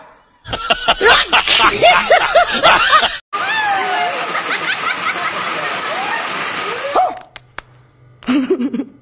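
Swollen flood water rushes loudly through a river running between bamboo after heavy rain, a steady roar and splash, with a person talking over it.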